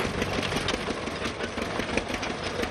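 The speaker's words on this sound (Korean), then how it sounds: "지금 감탕을 실은 트랙터들이 리오니어 포전으로 달리고 있습니다." Tractors loaded with pond mud dug from a fish farm bottom drive along toward the fields, a steady chugging engine drone with a rapid rhythmic knock throughout, with no talking.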